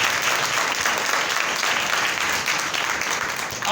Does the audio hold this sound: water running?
no